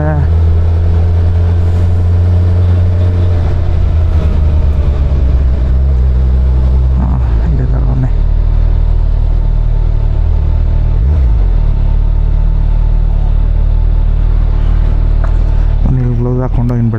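A motorcycle fitted with a Black Widow full-system exhaust rumbles deep and steady nearby, with a brief rev late on, while people talk over it throughout.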